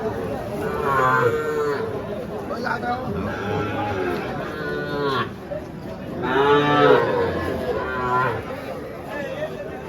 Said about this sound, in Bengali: এটা হলো নেপালি গির জাতের গরু।